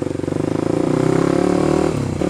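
A Kawasaki KLX 250 converted to supermoto trim, ridden off-road, its single-cylinder engine chugging in a fast steady rhythm close up, then easing off near the end.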